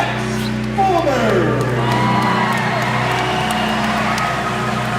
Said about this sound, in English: As you hear the crowd, boy, they're into it.